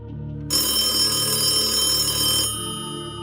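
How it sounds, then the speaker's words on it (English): An old telephone bell rings loudly inside a house on Church Street, a dense metallic rattle that bursts in abruptly, holds for about two seconds, then cuts off leaving a lingering hum. "Suddenly, the telephone rang."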